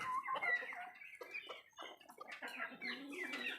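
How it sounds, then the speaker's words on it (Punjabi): A rooster and hens cluck and squawk close by, a busy mix of short calls and longer drawn-out clucks with no talking. "ਵੱਡਾ ਮੁਰਗਾ ਤੇ ਮੁਰਗੀ"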